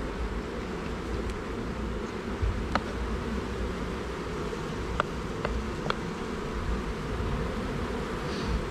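Steady, close hum of many honeybees at an open hive, an even, continuous buzzing drone with a few faint clicks and taps from handling the hive boxes.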